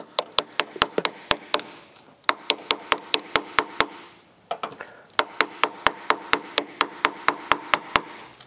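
A hammer strikes metal repeatedly while knocking a battery cable terminal onto a post of an old race truck: sharp, close, ringing blows in fast bursts separated by brief pauses.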